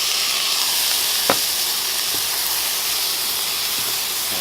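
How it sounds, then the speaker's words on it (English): Chickpeas go into a hot pan already holding quinoa and capers, giving a steady hissing sizzle with a single sharp crackle early on, and no voices. "I'm going to add the chickpeas."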